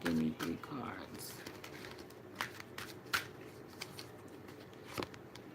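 Tarot cards shuffled by hand for a reading: a run of soft, papery riffles and sharp flicks at irregular intervals, close and fairly quiet, with a brief voice-like murmur at the start.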